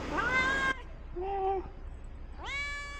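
Three distinct meows from a cat that fell onto an apartment roof, spaced apart by short pauses, moderately close and fairly quiet.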